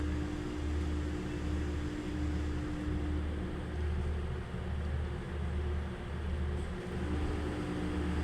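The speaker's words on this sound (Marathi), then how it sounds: "आता याला मिक्सरमध्ये फिरून घेऊया आपण" A steady, loud motorized whir with a low droning hum runs throughout as a kitchen mixer grinder spins continuously while making misal.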